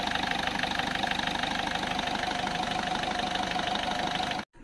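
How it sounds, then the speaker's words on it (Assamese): A 1.3 litre, 1300 cc diesel engine in a Ford Fiesta idles steadily with a close, even knocking clatter that holds for several seconds before cutting off abruptly near the end. "এয়াই হ'ল ইঞ্জিনৰ একদম ধুনীয়া চাউণ্ড"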